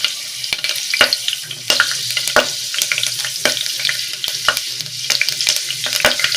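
Bay leaves crackle and sizzle steadily in hot oil for a mushroom biryani, with sharp spatula clicks and scrapes against the pot scattered throughout, close and fairly loud.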